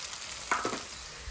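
Tomato masala with turmeric, coriander-cumin powder and crushed red chilli sizzles steadily in a pan, with a couple of brief stirring scrapes over the continuous close frying hiss.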